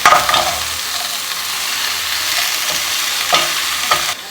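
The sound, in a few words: food cooking and sizzling in a pan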